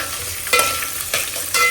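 Vegetables are stirred in a frying pan in a restaurant kitchen, with a steady sizzle broken by a few scraping, rustling stirs, nearby and moderately loud.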